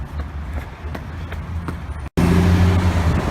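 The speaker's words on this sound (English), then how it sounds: "Apologies for the traffic noise" Steady road traffic roars from the Mass Pike below a bridge in Boston, a dense broadband rumble with wind buffeting and a louder surge near the end; no speech.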